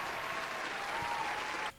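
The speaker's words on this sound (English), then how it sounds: "We'll give him a short clap." A short burst of clapping from a small group in a casual podcast setting, steady and close for under two seconds before stopping abruptly.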